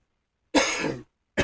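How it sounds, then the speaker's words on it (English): A single harsh cough from a person recovering from the flu, close and loud after silence, with the start of a second cough at the very end. "And I apologize for the cough."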